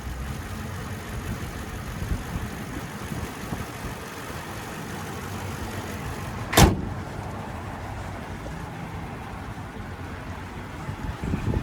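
Lexus GX 460 with its 4.6-liter V8 idling at steady low volume, a broadband rumble that runs throughout, broken by a single sharp knock or thud midway.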